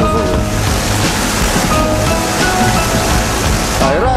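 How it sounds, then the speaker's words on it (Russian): Air is blown through ordinary water to aerate a sturgeon-farm tank, giving a loud, continuous bubbling rush with no pause, close by. "Аэрация здесь, вот видите, барботаж, это мы насыщаем воду кислородом"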